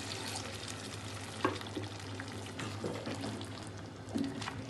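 Water splashes into a pan of taro and meat frying for an Arvi Gosht curry. Soft sizzling and bubbling run under occasional stirring clinks at a low, close level.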